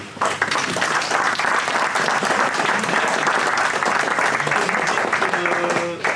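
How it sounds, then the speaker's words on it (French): A full audience applauds a sports and culture club's team at an evening celebration, dense steady clapping filling the room for about six seconds, with some voices and a few faint tones mixed in near the end. "Ils sont tous là, donc applaudissez-les"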